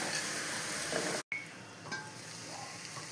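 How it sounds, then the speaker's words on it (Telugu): Soft, steady sizzle of drumstick pods frying in oil, quiet and close, with a brief dropout partway through before the frying resumes. "ములక్కాయలు బాగా వేగేయండి"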